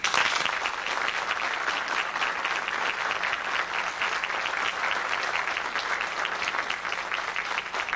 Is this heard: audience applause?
yes